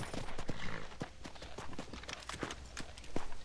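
A horse's hooves clip-clop in a steady rhythm in the Red Dead Redemption video game, moderately close and fairly quiet, with no talk over them.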